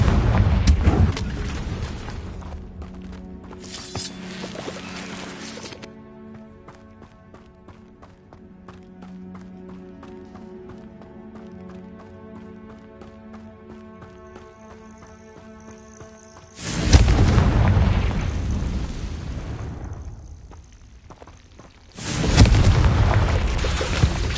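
Confringo fire-blast spell explosions in Hogwarts Legacy, two loud booming blasts late on that each roar and fade, after an opening burst and a long stretch of quieter tonal music.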